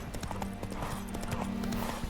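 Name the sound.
horse hooves and whinny in The Witcher 3 video game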